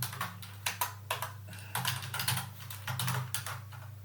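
Code being typed on a computer keyboard, a close burst of irregular key clicks over a low steady hum, with no speech.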